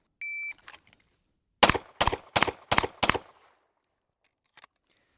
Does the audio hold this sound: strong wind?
no